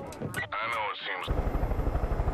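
A video game helicopter starts with a voice mimicking the rotor, then the game's engine takes over as a steady, close, rhythmic thumping of blades.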